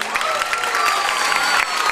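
A carnival audience claps steadily for a parent named Françoise, the dense applause holding at an even, moderately loud level.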